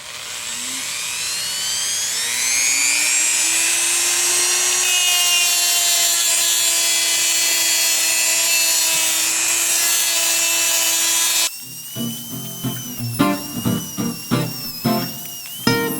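A power tool strips paint and rust from a John Deere tractor rim with a loud, steady rising whine that cuts off abruptly, followed by irregular knocks and scrapes.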